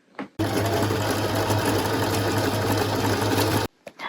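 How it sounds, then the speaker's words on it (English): A sewing machine fitted with a normal presser foot stitches two sides of pinned pieces together, running in one loud, steady, continuous whir, with brief faint handling sounds just before and after. "now I just have to sew together 2 sides"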